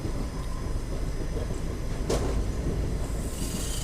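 A Cherlapalli to MGR Chennai Central SF Express runs along, heard from inside as a steady, loud rumbling roar with faint rhythmic rattling and one brief sharper clack midway.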